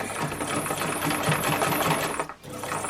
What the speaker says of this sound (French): Je viens coincer avec le pied et c'est parti pour coudre tout le côté.